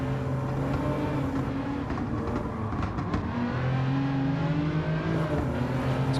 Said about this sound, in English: one of the cars up ahead has got the sports exhaust on